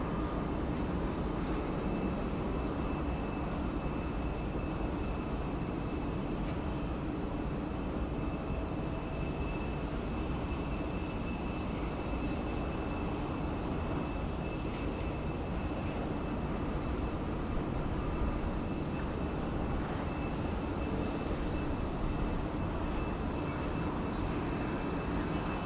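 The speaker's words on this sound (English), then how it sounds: "Next aircraft in is Jetstar 522. It's an A320 coming to us all the way from Melbourne. Landing 34 left." A Jetstar Airbus A320 from Melbourne lands on runway 34 left at Sydney Airport, a steady broadband engine roar holding level and continuous throughout at moderate distance, with faint steady tonal whines above it.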